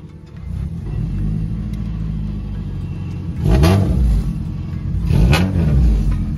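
A Honda Civic with a modified muffler revs hard twice, each throttle blip rising into a loud, raspy exhaust roar over a steady rumbling idle, heard close and with no talking.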